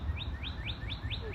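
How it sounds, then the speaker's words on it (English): Small birds chirp outdoors near a bird feeder, giving a steady series of about five bright, rising tweets at an even pace over soft background rumble, with no talking. "Do you hear a bird?"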